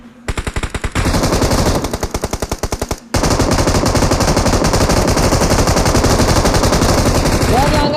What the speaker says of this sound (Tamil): ஆமா P90 சவுண்ட் கேக்குது.